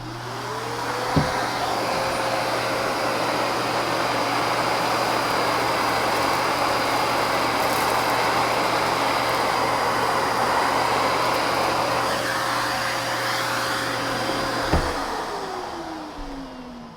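A Miele Capricorn S5980 canister vacuum cleaner runs with its hard floor tool, a steady loud motor whine and airflow rush. It spins up near the start and winds down near the end, with a clack at each end.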